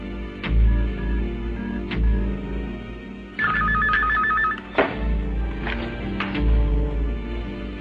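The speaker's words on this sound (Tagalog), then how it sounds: "Amy, sabihin mo kay Teniente, telepono" A telephone rings indoors, giving one clear burst of trilling bell rings in the middle against a busy background of low thuds and music-like film sound, with no talking over it.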